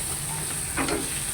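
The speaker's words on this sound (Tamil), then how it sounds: "இதில் நாங்கள் கிளறி தூள் சோஸ் எல்லாம் மிக்ஸ் ஆகும்" Chicken devil with sauce stirred in a pan: a soft background sizzle and one brief scraping swirl of the spoon midway.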